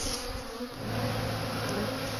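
A swarm of bees flying around a hive entrance, a dense, steady buzzing drone that stays loud and close throughout without any talk.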